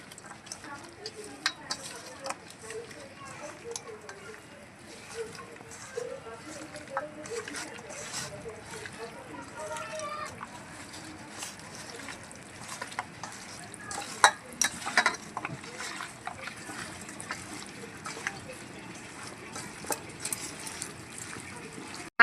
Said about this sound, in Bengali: এখন সব কিছু একসাথে ভালোভাবে মেখে নেব